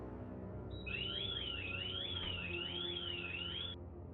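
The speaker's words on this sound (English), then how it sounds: "the Wi-Fi reconnected as he opened a door that triggered an alarm" A house alarm set off by a door opening sounds as a steady, high warbling electronic tone that runs unbroken for about three seconds, then cuts off against quiet background hum.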